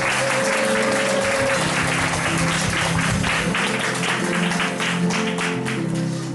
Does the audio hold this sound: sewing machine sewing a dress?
no